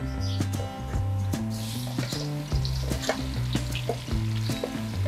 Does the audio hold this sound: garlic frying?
yes